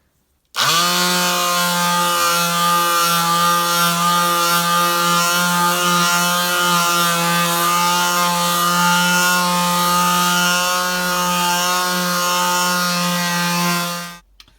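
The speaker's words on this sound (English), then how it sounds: "So I'm going to start with a 180 grit and see where we go." A Black & Decker mouse sander running on wood with 180-grit paper during a furniture restoration makes a loud, steady electric whine with a buzzing hum. It starts abruptly, runs without a break for about fourteen seconds, then winds down.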